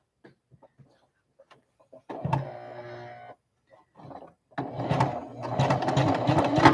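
Home sewing machine stitching through thick layers of a zippered fabric bag, two bursts of steady whirring motor hum, the second long and loud, with soft handling clicks and rustles in between.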